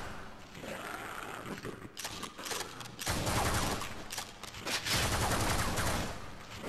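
Sustained rapid automatic fire from an automated turret in Half-Life VR's office complex, a dense rattling barrage running nearly throughout and growing louder and heavier in the second half, with mechanical clatter mixed in.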